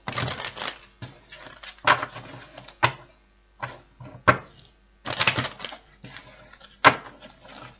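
Cards riffled and cut in a run of short, crisp rustling bursts, with several sharper snaps and brief pauses between shuffles, close and clear.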